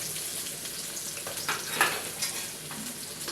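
Onion, garlic, bay leaf and cumin frying in oil in a kadai for nihari, a steady close sizzle with occasional stirring scrapes and small crackles throughout.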